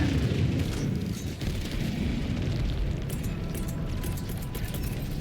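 A video-game explosion in Helldivers comes as a heavy, sustained low boom and rumble that fills the whole stretch loudly, with no voices over it.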